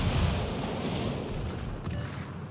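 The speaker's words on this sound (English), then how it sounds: "Secondaries are focusing both sides of the ship" Secondary guns on a World of Warships battleship, the Atlantico, fire to both sides in a muffled rolling barrage of booms and rumble, fairly quiet and continuous over the whole short stretch.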